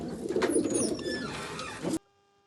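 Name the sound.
pigeons cooing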